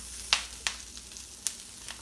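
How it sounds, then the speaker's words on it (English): Brussels sprouts sizzling in a hot pan, with a soft steady hiss broken by four sharp crackling pops spaced through the moment; no voices. "You put in your Brussels sprouts, make sure they sizzle."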